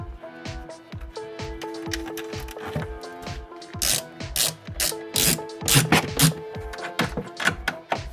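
Screws being reinstalled on a BMW i3 battery panel during a 12V battery replacement, a quick ratcheting driver clicking in rapid rhythmic bursts close by, with sharper metallic clacks toward the end.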